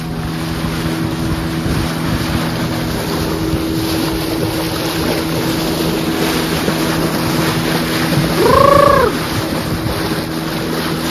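A motorboat runs at sea off Goa, its engine hum steady and loud under buffeting wind noise, with a brief rising swell near the end and no talking.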